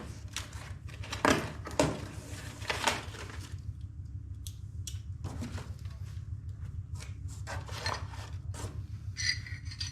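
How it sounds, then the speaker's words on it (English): A cardboard box holding upgrade parts for an AGT H12 mini excavator is torn and rubbed open up close, with rasping scrapes and papery rustles in several bursts over a steady low hum. "let's get this box opened up here"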